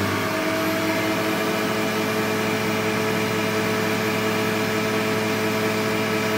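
CNC machine running steadily in a motorcycle chassis shop that builds pro mod drag bikes, a constant loud mechanical hum with tonal whine and no speech.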